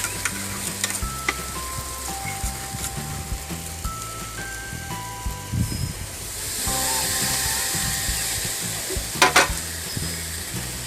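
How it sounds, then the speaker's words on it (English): Steak sizzles on a hot outdoor grill in a steady frying hiss, with scraping and a brief flare of louder hissing, close, with faint music running beneath and no talking. "You want to hear that nice sizzle."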